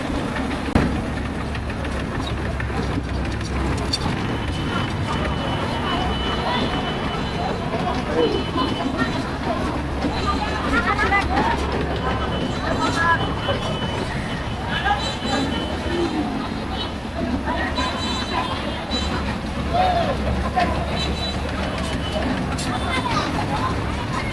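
Busy village fair crowd with rides running, a continuous babble of voices over a low mechanical engine hum, steady and fairly loud throughout.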